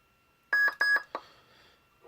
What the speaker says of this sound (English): You hold it down until it beeps, then tap it again.